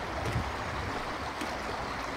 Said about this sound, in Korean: 졸졸졸 흐르는 물소리와 구불구불한 소나무 사이를 노니는 솔바람 소리가 어우러지며